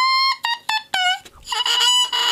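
An oboe double reed is blown on its own without the instrument, giving a series of loud, close, buzzy squawking honks, several short bursts and then a longer sustained squeal.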